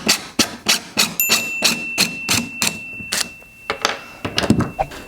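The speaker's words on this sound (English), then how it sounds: "I'm going to go ahead and take those screws out, take the clamps off" Screws being taken out of clamped, screwed-together wooden boards during a woodworking glue-up, heard as a close, steady run of loud knocking thunks, about two per second, with a brief pause before a final uneven cluster.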